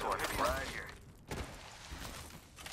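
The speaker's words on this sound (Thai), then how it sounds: "มันยิงทีละ3นัดอะเพราะมันเป็นทริปเปิล" Triple Take gun in a video game firing three-round bursts, sharp loud cracks with a mechanical clatter, the burst near the start and another thump a little later, with people talking over the gameplay.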